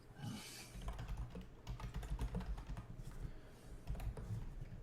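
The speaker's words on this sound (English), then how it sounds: "Just pushing a lot of buttons. You hear them keys?" Rapid clicking keystrokes sound on a computer keyboard, a dense, quiet, continuous patter of button presses with no speech.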